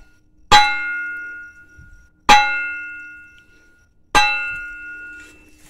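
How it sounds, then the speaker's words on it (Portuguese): A white stone struck three times at even intervals, each hit a bright ringing clang that decays slowly, close and clear with no talk. "bate nela pra ver o barulho que vai fazer ali."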